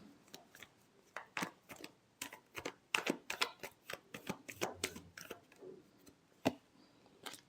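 Tarot cards are shuffled by hand in a reading, a run of sharp, uneven flicks and slaps that bunch into fast clusters between short pauses, close and clear over a quiet background with no speech.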